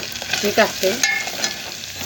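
Chicken soup ingredients sizzle and fry in a pan, stirred with a few scraping strokes, close and clear for about two seconds, with a brief spoken phrase over the sizzle.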